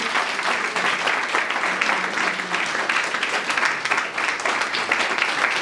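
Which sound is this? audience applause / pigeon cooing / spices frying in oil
audience applause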